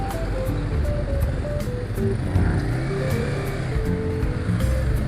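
A Yamaha MT25 250 cc motorcycle engine idles and runs with a steady low droning throb and fluctuating tone, close and continuous with no talk.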